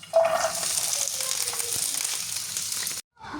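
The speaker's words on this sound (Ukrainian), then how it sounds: "І буду смажити чесникові стрілочки." Loud, steady sizzling of garlic scapes frying in a hot pan, starting with a sharp hiss and then cutting off abruptly.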